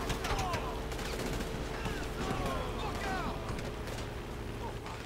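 Gunfire in a video game comes as dense, rapid bursts of shots layered over busy game noise, continuing steadily the whole time.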